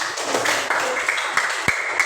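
Students in an Indonesian-language classroom clap for a classmate, a busy patter of hand claps with a few sharper slaps standing out, fairly close and steady throughout.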